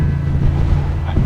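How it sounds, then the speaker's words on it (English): Wind gusting across the microphone on the exposed granite outcrop of Roche Rock in Cornwall, a steady loud low rumble and buffeting that fills the whole stretch with no break. "Sorry about the wind, it's a bit windy up here."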